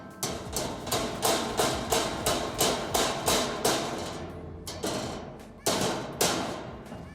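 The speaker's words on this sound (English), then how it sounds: "so I'll go get a hammer here in a sec." Hammer blows striking screws on a heavy duty book cart during assembly, a run of about a dozen sharp, evenly spaced thuds that are loud and close, with a short pause before the last few hits.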